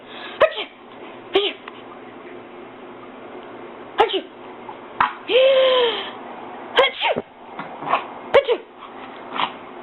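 A dog sneezes several times in short, sharp bursts, close by, with a person's voice speaking briefly between them.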